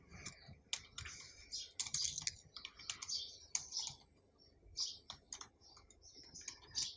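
Typing on a computer keyboard while entering text in Corel Draw, a steady run of close, crisp key clicks in uneven bursts with brief pauses, no talking.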